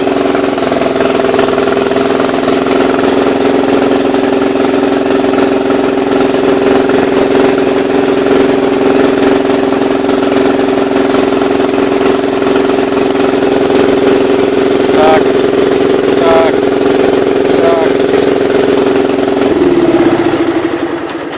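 A 1976 Gravely 816 tractor engine runs steadily at idle, a loud, continuous low hum with a steady tone, then drops off at the very end.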